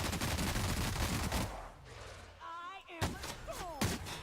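Gunfire from The Outer Worlds opens with a dense, rapid volley of shots, then pauses for spoken lines before a few sharp, louder single reports cut in between the voices.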